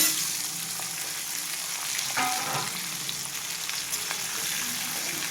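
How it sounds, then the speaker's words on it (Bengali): A steady, loud sizzle of food frying in hot oil, with an occasional scrape of a spoon stirring the pan; no one speaks. "তেলটা গরম হয়ে গেছে, আমি সবই দিয়ে দিলাম একসাথে"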